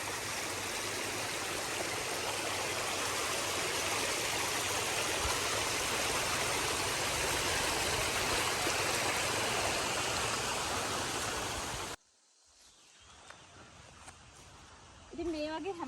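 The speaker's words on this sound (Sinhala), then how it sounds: "ඉතින් පිරිසිදු වතුර පාරක් එන්නේ" Clean water rushes loudly and steadily across a road at Hulangala Mini World's End in Matale, Sri Lanka, swollen by rain, then cuts off abruptly near the end, leaving faint background sound.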